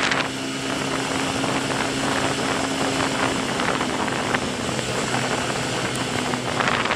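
Romet RCR 125 motorcycle engine held at full throttle around 80 km/h, a loud continuous droning whine with wind rush that stays steady as it slowly builds speed.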